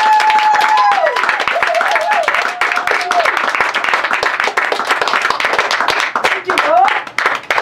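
Praise clapping in a family Christmas gathering, a steady run of sharp hand claps throughout alongside a sung or spoken voice and warbling tones, fairly loud and close.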